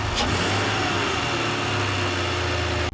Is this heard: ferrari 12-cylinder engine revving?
yes